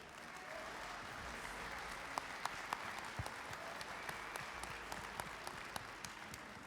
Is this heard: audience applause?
yes